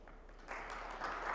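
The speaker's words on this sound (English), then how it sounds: "Give them a round of applause." Audience at a conference on decentralized insurance clapping as two speakers come on stage for a fireside chat, quiet at first, then swelling into steady, moderately loud applause.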